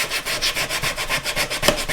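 Sandpaper rubbed by hand over a wooden round pocket tray, giving steady, rhythmic back-and-forth scratching strokes, close and loud with no talking.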